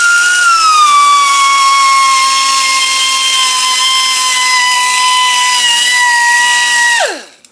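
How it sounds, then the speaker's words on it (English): A high-speed handheld air tool whines steadily and loudly while stripping paint and rust from a Honda VF750F engine part held in a vise, its pitch sliding slightly before spinning down abruptly at the end, with no talking. "you can just stick it in the vise and come in here with your handy air tool"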